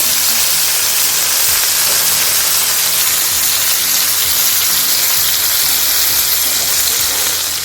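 Bombay duck (bombil) fish frying on a hot tawa, a loud, steady sizzle and hiss of oil that stays even throughout with faint low clatter underneath.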